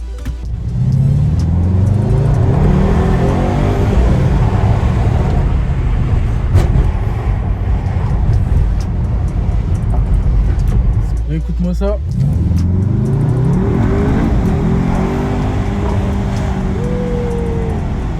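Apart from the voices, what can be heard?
sports car exhaust pops while revving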